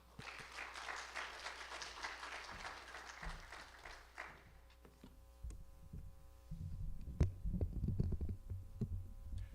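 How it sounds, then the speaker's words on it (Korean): Applause from a Korean church congregation at a Saturday dawn revival service, welcoming the pastor as he comes up to preach. It rises for the first few seconds, dies away, and low thumping and murmur follow. "목사님 올라오실 때 오늘도 박수로 환영하겠습니다."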